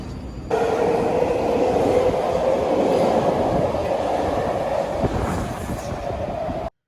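A subway train rumbles loudly and steadily along the tracks, with a sustained low roar and faint screeching overtones, ending abruptly.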